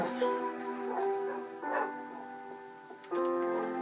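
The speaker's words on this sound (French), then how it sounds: "j'allais me faire une armée de chiens. Et la voici." A pack of tamed dogs in the Minecraft video game gives off yips, whimpers and barks that overlap in short bursts, fairly close and steady, with no talking over them.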